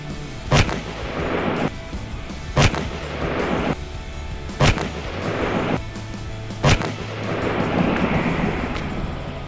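An AEA Zeus .72 caliber air rifle fires at steel and lumber targets outdoors, four loud sharp reports spaced about two seconds apart, each followed by a rushing, windy outdoor background.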